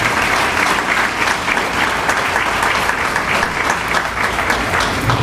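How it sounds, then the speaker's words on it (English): Loud, close applause from a graduation crowd, many hands clapping in a dense, unbroken roar that holds evenly throughout. "Give them a round of applause."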